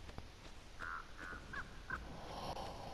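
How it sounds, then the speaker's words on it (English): A crow caws in the Dead by Daylight video game, a series of four or five short rasping calls spaced about half a second apart over a dark ambient rumble, no voices. "Oh my God, that bird scared the crap out of me."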